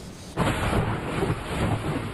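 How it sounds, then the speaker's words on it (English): Thunder booms suddenly during a severe thunderstorm, followed by a dense, continuous roar of rain and rumble that stays loud and close without any talking. "It was the sound of thunder and the light show in the sky that kept many East Texans awake overnight"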